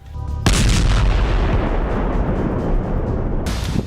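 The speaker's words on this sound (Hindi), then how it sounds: "रूस के वोल्गोग्राड में हुआ गैस स्टेशन ब्लास्ट एक बहुत बड़ा हादसा" A gas station explodes in Volgograd, Russia, with a sudden massive boom that rolls into a loud, sustained roaring rumble lasting several seconds, with no voices over it.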